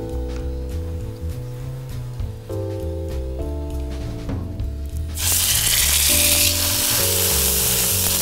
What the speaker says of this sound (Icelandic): Og pannan var snarpheit þegar ég setti kjötið á.